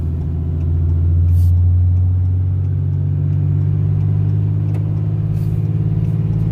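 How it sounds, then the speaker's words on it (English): A Dodge pickup truck towing a big Farm King 16104 grain auger along a highway, its engine a steady loud low rumble that swells slightly as it shifts gears, with no talk. "Shifting gears,"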